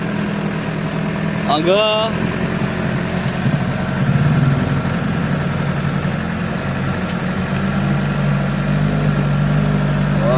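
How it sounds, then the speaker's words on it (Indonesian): A trail motorbike engine idles nearby in a steady, low, continuous rumble, while someone talks over it briefly near the start. "iki motore wong gunung ngene iki, motor Trabas."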